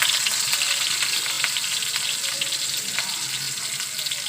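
Chopped onion frying in hot oil gives a dense, even sizzle close up, with light crackles throughout and no talking.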